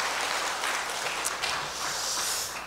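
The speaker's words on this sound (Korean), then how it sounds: "박수로 한번 다시 한번 칩시다" A church congregation claps together during a Sunday worship service, steady sustained applause filling the sanctuary for a few seconds with no speech.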